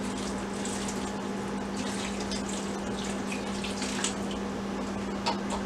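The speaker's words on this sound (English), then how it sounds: "Pour the rest of our beer in." Stout beer pours from a can or bottle into a cooking pan beside a pellet grill, a steady faint trickling splash with a constant hum underneath and a few small drips.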